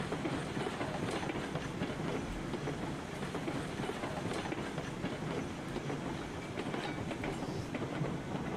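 A Lima steam locomotive running in the railroad game RailRoads Online gives a steady, dense rumbling clatter of wheels and rails that holds at an even level throughout, with no voices.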